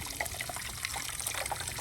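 Water runs steadily from a tap, a continuous splashing trickle with bright, bubbly texture that stays even throughout.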